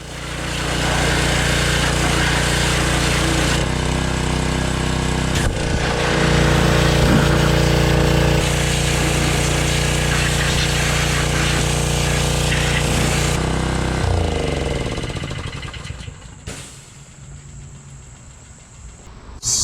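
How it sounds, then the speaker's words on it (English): A pressure washer blasts an oily, greasy Jaguar XK6 engine from an XJ6, a loud, harsh, continuous spray roar that shifts tone as the nozzle moves, then cuts off near the end, leaving a quieter hiss. "So if you're gonna pressure wash an oily, greasy, filthy engine, prepare to get splashed back with a lot of oily, greasy, filthy water."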